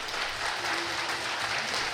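Participants at a housing move-in gathering in Ryongchon-dong, Tanchon, break into enthusiastic, sustained applause, a dense, even wash of clapping from a large crowd heard alone.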